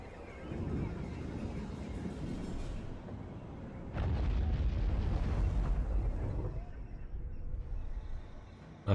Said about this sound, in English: Nice volcanic explosion there.